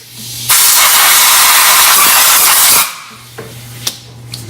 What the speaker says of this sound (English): Blow the brake cleaner out.